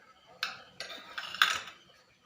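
A plate is set as a lid over a pan of Kolhapuri-style pav bhaji cooking with butter. Three or four light metallic clinks land in quick succession, close and fairly quiet, against a faint kitchen background.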